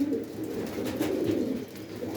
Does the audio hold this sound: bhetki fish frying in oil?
no